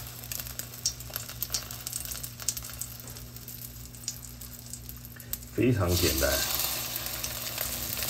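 Eggplant slices coated in flour and egg yolk frying in a pan over moderate heat, a steady close sizzle that swells louder near the end while a voice speaks briefly.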